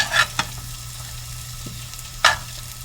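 Onions sauté in a pan beside fresh garlic, with a soft continuous sizzle under a low hum. Three brief scraping or clinking stir sounds come near the start and end, and no one speaks.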